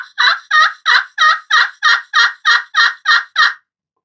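A crystal pot turkey call, played with a denser striker, gives eleven evenly spaced raspy yelps in a steady rhythm. The notes are loud and close, with nothing else audible, and they stop abruptly near the end.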